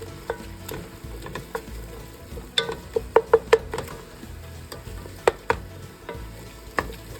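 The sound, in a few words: stirring tomato paste into mirepoix in pan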